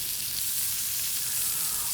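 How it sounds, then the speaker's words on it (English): Bacon-wrapped Baguio beans and sitaw fry in a pan, giving a steady, close, hissing sizzle that stays even throughout with no talking. "Oh, sizzle."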